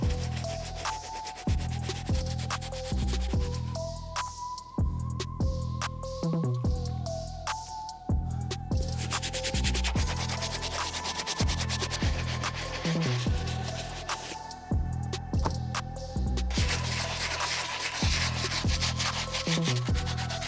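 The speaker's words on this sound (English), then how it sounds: "I'm gonna scrub the shoe for a good 20 minutes using the Soft Bristle Brush and the Medium Bristle Brush" Soft and medium bristle brushes scrub an Off-White Air Jordan 5 sneaker in steady, close back-and-forth strokes, a continuous rasping scrub broken by brief pauses between passes, with no voices.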